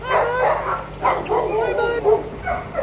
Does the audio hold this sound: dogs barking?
yes